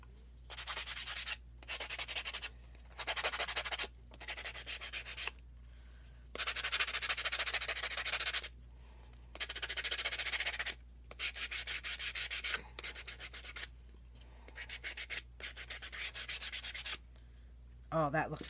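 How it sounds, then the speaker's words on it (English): Sandpaper rubbing along the edges of a wooden 6x18 box frame to distress it, heard as repeated close scratchy strokes in bursts of one to two seconds separated by short pauses, with no talking. "I think I want to sand my edges a little bit, distress them a little."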